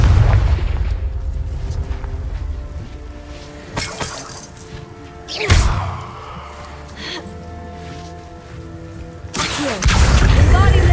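Confringo explosive spell blasts in Hogwarts Legacy, several loud booming bursts with shattering debris, separated by quieter stretches of lingering rumble and crackle.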